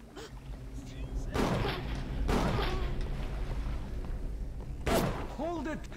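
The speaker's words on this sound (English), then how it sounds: "what's that explosion going on?" Explosions and gunfire in the Bioshock video game: several loud broadband blasts at intervals over a rumbling background, with a voice talking over the noise.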